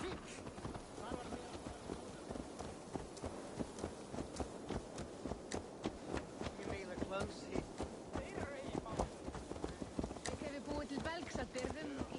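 Horse hooves clip-clop steadily in Assassin's Creed Valhalla, a running rhythm of close, moderately loud hoofbeats layered under game ambience and spoken dialogue.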